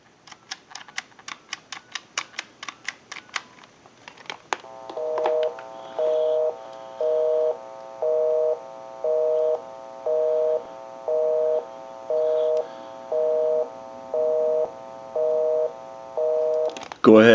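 A rapid run of short dialing tones on a Western Electric Trimline telephone, then a steady busy signal beeping in regular on-off pulses, about ten repeats, close and clear.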